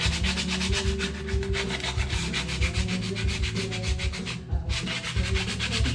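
Clutch plates from a 1976 Harley FLH are scuffed with abrasive in rapid, rhythmic back-and-forth rasping strokes, loud and close, with one brief pause and no talk.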